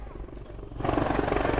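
A display helicopter pirouetting around its own fuselage along the display line at the Cosford Airshow, its rotor drone swelling suddenly louder and staying steady and near, with faint talk underneath.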